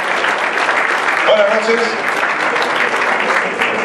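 Audience at the AMPE 2013 media awards gala applauding steadily as an honoree comes up, continuous clapping at moderate volume while a voice briefly speaks over it.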